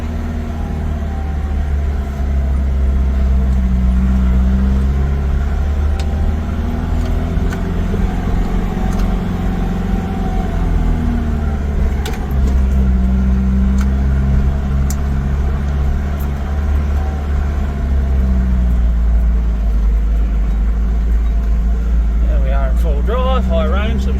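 4WD vehicles, among them a Toyota Hilux, drive along a bumpy riverbed used for quad riding. Their engines give a steady, close, rumbling drone that carries on without a break.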